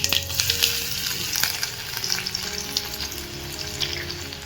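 Mustard seeds, cumin and garlic hit hot oil in a pan, giving a bright crackling sizzle with sharp pops and spits, loud and close, under a faint steady hum.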